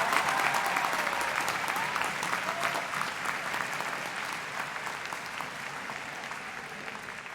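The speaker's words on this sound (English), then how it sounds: "let's give a round of applause for these extraordinary students" Commencement crowd applauds graduating students at a university ceremony, a dense sustained clapping from a large audience that slowly eases in volume.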